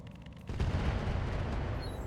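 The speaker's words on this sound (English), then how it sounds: "They're continuing to shoot at that Thumper turret." Heavy weapons fire from mech combat in RogueTech, aimed at a Thumper turret: a dense, rumbling barrage of booms and bursts erupts after a quieter half-second opening and carries on without a break, with no talk.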